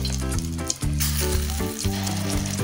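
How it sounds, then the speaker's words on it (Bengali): Masoor dal fritters dropped one by one into hot oil for a village-style curry, giving a steady, close sizzle and frying crackle, with music-like tones running underneath and no talking. "আমি চামচের দ্বারা এক এক করে বড়াগুলো ছেড়ে দেবো"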